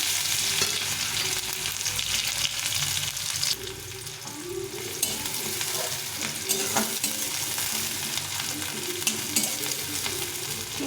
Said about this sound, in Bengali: মশলা জিরে একটা পেঁয়াজ দিয়ে দিলাম